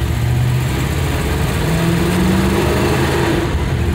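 A 1962 Chevrolet Bel Air engine running steadily close by, a loud, even rumble with a low droning hum throughout.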